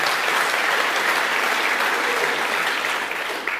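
Audience applause at the 2021 Australian of the Year Awards for the Northern Territory, dense sustained clapping from a large crowd, loud and even, tapering slightly toward the end.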